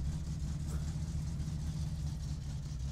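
A car engine idles steadily in My Summer Car after the choke is switched off, a continuous low rumble with a slight uneven chug, close and constant for the whole stretch with no speech.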